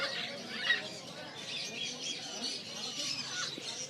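Alexandrine parakeets squawk in a busy bird shop, Khan Exotic Birds in Sadar, Karachi, with a few sharp calls rising over dense background chatter and shop noise.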